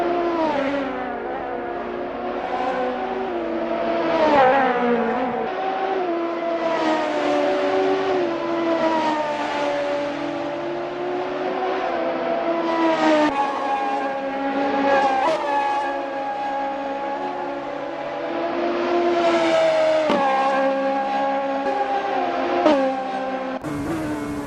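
Race car engines in an Assetto Corsa wet-weather online race, a sustained high-pitched roar that rises and falls through gear changes and revs, loud and continuous for the whole stretch.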